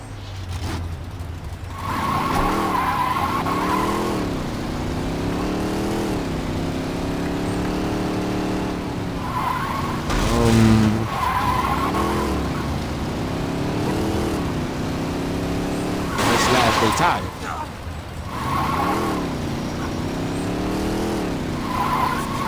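A Feed Dogs pyro truck in Saints Row 2 drives with a steady engine drone and repeated long tire squeals as it skids. Loud, near and continuous, with engine pitch rising and falling between skids and no voices.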